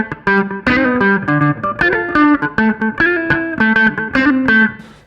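An electric guitar plays a choppy, rhythmic riff through a low-pass filter pedal on its own, without any oscillator wobble, loud and close with no talking.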